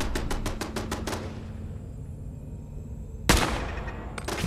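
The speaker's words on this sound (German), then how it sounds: "Da schießt irgendwas." Rapid bursts of automatic gunfire crack out in the video game Fallout 4: a quick string of shots, a pause of quiet hum, then another volley, all fairly close and without talk.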